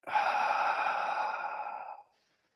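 A single long exhale during a Kegel exercise, a steady breathy sigh lasting about two seconds that fades out cleanly, close and fairly loud, with no talking.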